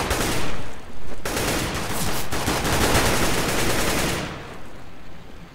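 Rapid, loud gunfire in a CS:GO round, continuous automatic shooting with a couple of sharp breaks before tapering off toward the end.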